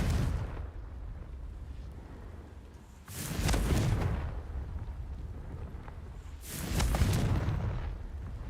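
Two heavy blasting-spell explosions in a wizarding video game, each a broad rumbling burst around three and seven seconds, rising loud over a low droning background and then rolling off.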